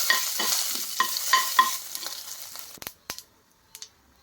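Chana dal and urad dal sizzle and fry in hot oil as a tempering for tomato and groundnut chutney, with clear stirring scrapes over a steady crackle for nearly three seconds before it drops to a few sharp clinks and near silence.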